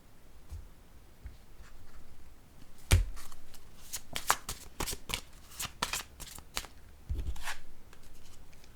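Paper story cards with a wedding theme are handled and shuffled close by, with rapid riffling bursts, taps and light rustles in uneven clusters.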